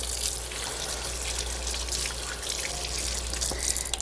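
Tap water runs steadily over a carrot being rinsed in a kitchen sink, a constant close splashing hiss with small drips and trickles breaking through.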